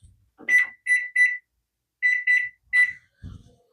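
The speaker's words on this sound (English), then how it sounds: "Let me set a timer for 11 minutes." A kitchen timer is set during home baking of a chocolate mayo cake and dinner: short, clear electronic beeps sound close by in two quick groups of three, followed by a dull low thump.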